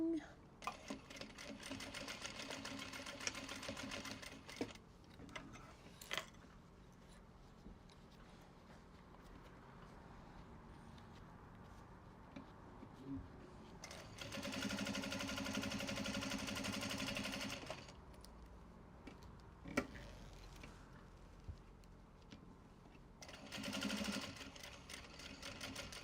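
A sewing machine stitches a small traveller sling in a few short bursts of fast whirring, close and fairly loud between quieter pauses, with someone talking at times.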